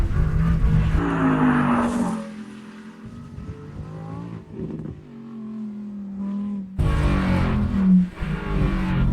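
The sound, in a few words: Lamborghini Huracan STO naturally aspirated V10 engine revving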